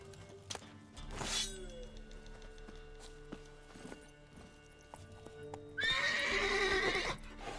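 Roach, the horse in The Witcher 3, clip-clops under ambient game sounds, then lets out a loud, close, wavering neigh near the end.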